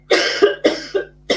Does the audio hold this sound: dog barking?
no